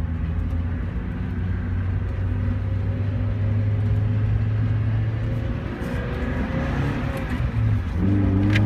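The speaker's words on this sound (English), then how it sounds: "Rotational sort of sound, that's just the stickers on the tires." Steady low rumble of a 2001 Mazda Miata driving, with a faint rhythmic rotational hum from stickers on the tires rolling on the road.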